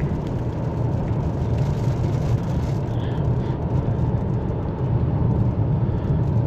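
Inside a 2025 Ford Explorer Platinum with a 3.0L engine and rear-wheel drive, a smooth, steady hum of engine and road noise rolls on at an even level, with a little wind outside and no voices.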